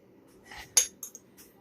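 A metal spoon scooping mild Pace chunky salsa from a jar, a few light clinks and scrapes with one sharper tap, close and alone.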